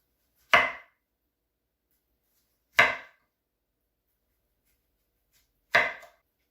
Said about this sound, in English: Slice that piece off. And then do the same with the others.